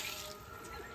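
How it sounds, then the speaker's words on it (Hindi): Water is poured from a bucket into a pot of Bihari-style Kadaknath chicken curry cooking outdoors in a village, a brief, faint, steady splashing stream with no talk. "पानी डालो जरा देसी मुर्गे में"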